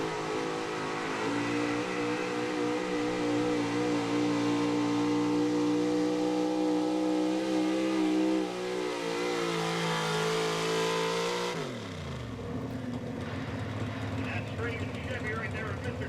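A 1979 Chevy gas 4x4 pulling truck roars under sustained full throttle at a truck-pulling event, a loud, steady engine drone that shifts pitch, then cuts off sharply near the end, leaving quieter crowd and announcer-style talk.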